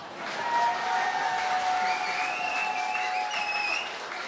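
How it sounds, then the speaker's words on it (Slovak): An audience claps at a CD launch concert in Budiná, the applause steady and fairly full, with a few whistles and faint crowd noise mixed in, and it eases off toward the end. "Ďalší potlesk."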